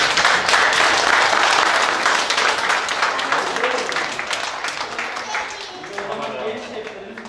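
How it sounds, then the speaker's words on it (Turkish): Kindergarten children applaud a chef at a 23 April celebration at a cooking camp in Mengen, with loud, dense clapping that gradually fades over several seconds. "bir alkışlayalım bakalım"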